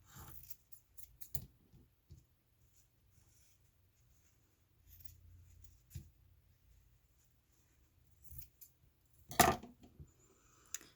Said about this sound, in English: I guess I just need to trim a little bit of this off.